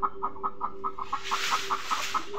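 Farm chickens kept alongside rabbits give a quick, evenly spaced run of about a dozen close clucks over a soft background hiss, with no talking.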